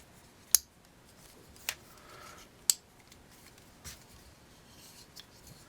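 Scissors on a folding knife multitool being opened and worked, giving a few sharp isolated clicks and snaps spaced about a second apart, close and alone in a quiet room.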